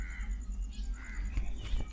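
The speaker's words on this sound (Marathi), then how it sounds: "किती पक्ष्यांचा आवाज आहे चांगला" Crows caw repeatedly in a quiet natural morning setting near Karwar and Ankola, a few harsh calls of moderate distance over faint ambient background.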